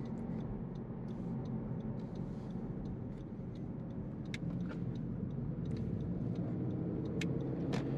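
A 2021 Honda Civic Sport Hatchback with a CVT pulls away hard, its steady engine drone and road rumble holding an even, constant level throughout, with a few faint ticks and clicks above it and no talking.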